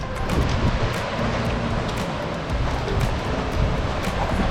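Newton Creek rushes along the Timberline Trail around Mt Hood, a steady, broad roar of flowing water that stays constant and close without breaks.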